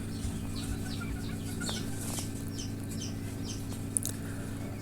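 Parent laying hens at a poultry farm cluck softly in a scattered chorus over a constant low mechanical hum, with a faint sharp click near the end.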